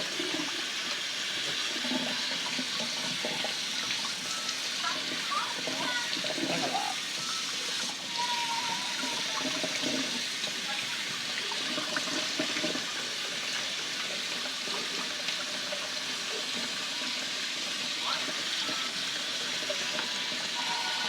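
Tap water runs steadily as an object is rinsed, a continuous close splashing and gushing that lasts throughout at an even level.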